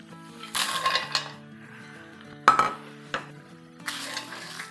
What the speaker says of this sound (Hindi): हम डालेंगे 6 से 8 सूखी लाल मिर्चें हैं। हमारी तेज़ नहीं होती, अगर आप चाहे तो कम डालें, चाहे तो ज़्यादा डालें। 1 टीस्पून ज़ीरा, 1 टीस्पून धनिया और 2 टेबलस्पून बादाम। इसको हम रोस्ट करेंगे।